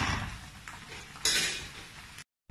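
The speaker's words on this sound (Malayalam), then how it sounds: "ഇനി ഇത് ഇളക്കിയിട്ട് മൂടി വെച്ചിട്ട് 1 20 മിനിറ്റ് വേവിച്ചെടുക്കാം" Metal pot clatter as a chicken dum biryani is stirred, then a lid clanks down onto the pot, two brief clinks over a low background hum.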